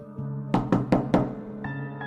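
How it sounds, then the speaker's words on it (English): Four firm knocks on a door, close and loud, evenly spaced in a quick burst, followed by a faint ringing tone after the last knock. "I raised my arm and knocked."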